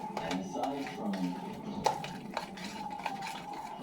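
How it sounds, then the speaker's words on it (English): A shepherd's pie filling is stirred in a pan, with repeated close clinks and scrapes of a utensil against the metal in an irregular rhythm, fairly quiet, with faint voices in the background. "now we're gonna come back over here and stir it all together"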